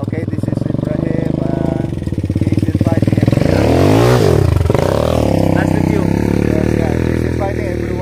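A quad bike engine revs loudly on red sand dunes near Riyadh, a rough buzzing drone swelling to a peak and easing off, with voices talking over it.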